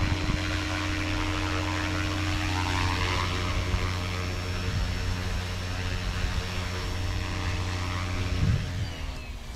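An SAB Goblin 380 RC helicopter flies rolls overhead, its rotor and motor producing a steady high-pitched whine with a strong tonal hum that shifts slightly near the end.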